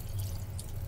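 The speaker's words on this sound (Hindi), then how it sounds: "अब हम इसमें बस पानी मिला देंगे" Water is poured into a pot of rajma (kidney beans) being cooked, a steady soft splashing and trickling over a low rumble.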